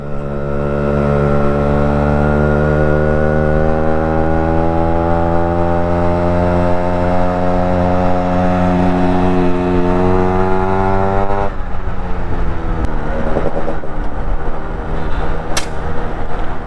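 Yamaha RXZ motorcycle engine and exhaust roar loudly and steadily while riding at night on an open road, pitch climbing smoothly through a long pull before dropping off with a rougher, popping note.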